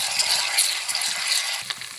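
Onions frying in hot oil for a hotel-style mutton curry, a steady bright sizzle with faint scraping of a stirring spoon, close and continuous.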